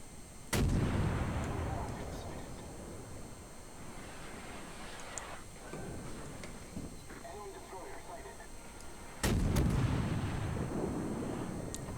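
Warship guns fire in the naval video game World of Warships, two heavy booming salvos several seconds apart, each followed by a long rumbling tail, with a steady background of game sound.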